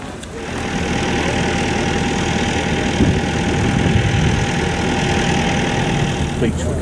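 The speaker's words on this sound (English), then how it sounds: "Beach recovery vehicle for landing craft and vehicles." A military beach recovery vehicle, built to recover landing craft and vehicles, idles with a steady mid-pitched engine rumble that runs continuously and fairly loud throughout, with faint background voices at a wartime show.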